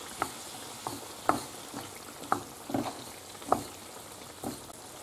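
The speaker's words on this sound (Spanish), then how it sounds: "se le echa el pimiento rojo y el pimiento verde para que se siga haciendo y se rehoga bien" Onion with red and green peppers sautéing in a frying pan, a soft steady sizzle punctuated by about eight distinct spatula scrapes and stirs at roughly even intervals.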